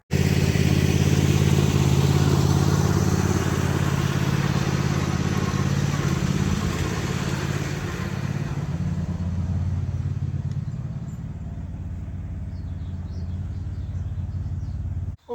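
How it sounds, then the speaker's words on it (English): Small red tractor engine running steadily close by on a hot afternoon after grass cutting, a continuous loud drone that eases slightly partway through and cuts off at the end. "So well done, little red tractor."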